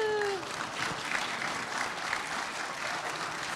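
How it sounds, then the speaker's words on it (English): A church congregation at a Sunday contemporary service applauds a couple's 50th wedding anniversary, steady even clapping throughout, moderately distant and softened, without talk over it. "Y'all give them a round of applause."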